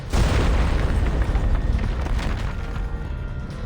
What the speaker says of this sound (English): Something explodes in the distance.